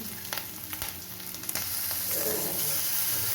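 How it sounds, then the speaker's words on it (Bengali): Garlic goes into onions already frying on a gas stove over medium flame, with a few clinks and taps, then the oil bursts into a steady, brighter sizzle. "আমার পেঁয়াজটা ভাজা ভাজা হয়ে গেছে এবার আমি এর মধ্যে রসুনটা দিয়ে দিচ্ছি"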